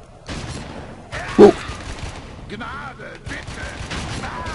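Rapid gunfire in the shooter game Red Faction comes in bursts, with one loud, close shot early on and more firing later, while someone talks over the action.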